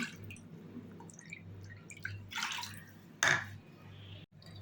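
Water splashes and trickles in a few short bursts, close by, as water is poured onto washed rice, with a louder gush near the end before stopping.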